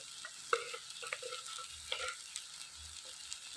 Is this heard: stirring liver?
yes